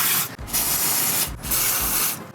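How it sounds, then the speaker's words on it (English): Penetrating spray hisses in two steady bursts onto bolts on a VW T4 van, broadband and close, with brief pauses between blasts. "To make life easier, we're going to give them a little spray."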